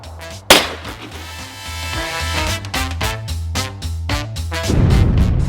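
.22 rifle fired into a mass of Orbeez: one sharp crack near the start, then a lingering low hum and rustle.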